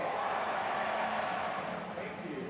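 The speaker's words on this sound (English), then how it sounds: "Love to hear this big crowd getting into it early." Big indoor soccer crowd roaring after a goal in a Florida Tropics versus San Diego Sockers arena match, a broad sustained cheer that fades slightly toward the end, heard at a distance.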